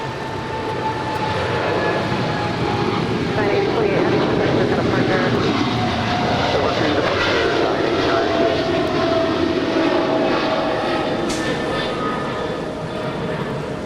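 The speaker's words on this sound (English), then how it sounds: "That is Atlas Air 8028 departing to Seoul. It's a 777 freighter." An Atlas Air Boeing 777 freighter departs Los Angeles International Airport, its jet engines a broad, loud, sustained roar that swells and then slowly fades, with voices talking over it.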